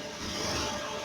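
A Honda automatic scooter engine revs up briefly with a short throttle blip, a close, steady broadband roar that swells slightly and holds for about a second.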